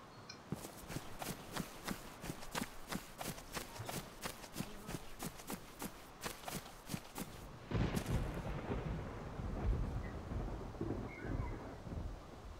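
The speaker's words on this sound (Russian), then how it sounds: "Так, гром гремит." Deep rolling rumble of thunder in the game DayZ Standalone, starting about two-thirds through, after a long run of rapid rhythmic thumping like footsteps; no talk.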